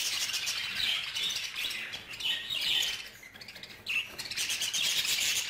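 Budgerigars squawking and chirping loudly as a flock of females attacks a single male in a cage, with harsh overlapping calls in continuous bursts.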